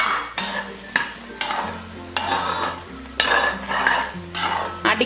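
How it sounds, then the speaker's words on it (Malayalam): Carrot halwa with sliced almonds, pistachios and cashews stirred in a pan, a spoon scraping and knocking against the metal in regular strokes, close and clear, with a faint sizzle underneath and no talking. "അത് ഇതിലേക്കിട്ട് നല്ലതുപോലെ ഇളക്കി കൊടുക്കാം."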